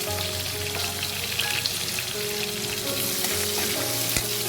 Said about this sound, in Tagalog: Igisa natin yung bawang. Igisa natin yung sibuyas.